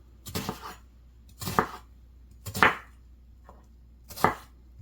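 A knife cuts slits into a red onion on a board, four distinct, crisp chopping strikes spaced about a second apart, close and clear against a quiet background.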